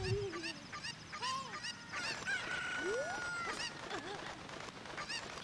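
Chickens cluck, crow and honk in the Zelda Ocarina of Time video game, a dense flurry of overlapping game-style bird calls and squawks running steadily throughout at moderate volume.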